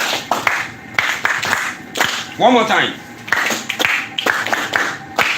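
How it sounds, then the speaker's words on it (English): A classroom audience claps hands together in quick sharp bursts and rhythmic patterns, with spoken prompts from a voice in between. "Are you ready to clap now?"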